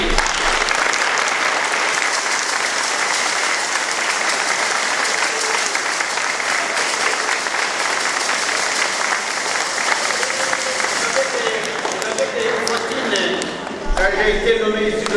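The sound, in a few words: congregation applause in church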